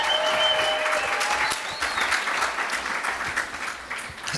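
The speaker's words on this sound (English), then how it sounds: "that deserves a big round of applause" Sustained audience applause from a large crowd, dense and steady with a brief whistle near the start, fairly loud and continuous throughout.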